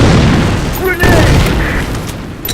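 Grenade blast in the shooter game Insurgency: Sandstorm, a loud, heavy, low boom at the start that rumbles and fades over a couple of seconds, with voices calling out over it.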